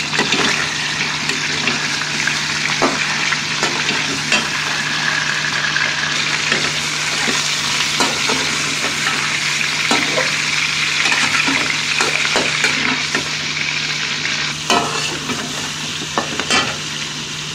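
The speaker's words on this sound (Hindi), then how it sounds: "घी गर्म हो गया, अब हम इसमें गोश्त डाल देंगे। और इसे लाइट ब्राउन कर लेंगे।" Mutton pieces sizzle and fry loudly in hot ghee for Sindhi biryani, a dense, continuous hiss broken by repeated stirring scrapes and clinks.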